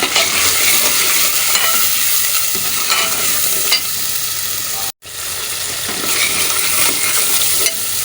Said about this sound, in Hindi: मसाला मैं भून रही हूँ।